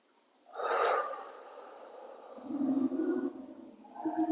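A slow yogic inhalation during gentle stretches, one audible breath drawn in through the nose followed by softer airy breathing, close and quiet with no talk.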